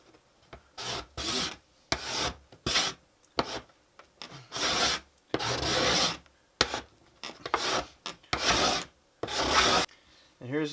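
A steel card scraper pushed across a wooden workpiece in repeated short rasping strokes, each a burst of scratchy friction separated by brief pauses, close and fairly quiet with no voices.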